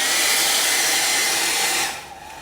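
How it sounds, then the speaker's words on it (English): A blow dryer runs loud and steady, drying paint on a stamped project laid over chalk style paint, a broad airy roar that cuts to a quieter hum near the end. "we're gonna hit this with a blow dryer because we've gotta put our next layer on"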